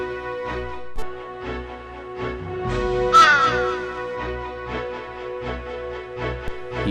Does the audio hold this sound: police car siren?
no